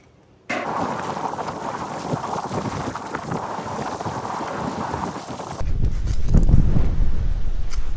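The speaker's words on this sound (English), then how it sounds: "Very windy today." Gusty wind blows outdoors beside clear water, a steady rushing roar against the microphone that suddenly deepens into a heavier, low buffeting rumble.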